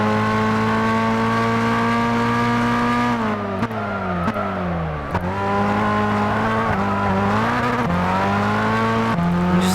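A car engine with a cheap upgrade and no turbo revs hard and accelerates, its steady loud drone rising in pitch, dropping at several gear shifts around the middle, then climbing again. The engine runs alone and close throughout.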